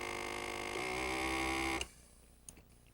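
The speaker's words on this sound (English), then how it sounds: "it pumps the air out of the wine bottle" A FoodSaver vacuum sealer pump pulling air out of a wine bottle through a stopper, a steady motorized hum for nearly two seconds that cuts off abruptly, followed by a couple of faint clicks.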